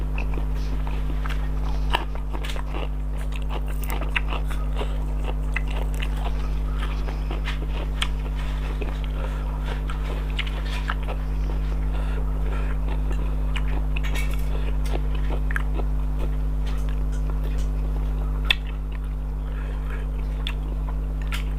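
Someone eats a spicy Thai pork sausage salad loaded with chilies, giving close, repeated chewing and biting sounds with light clinks of cutlery and dishes over a steady low hum, no talk.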